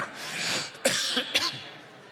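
A few short coughs from an adult man leading a church Bible reading, close and fairly loud, spaced roughly half a second apart over a faint background murmur.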